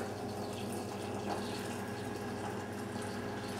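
Hot water at 195 degrees pours steadily into a teapot for green tea, a continuous close splashing trickle with no talking.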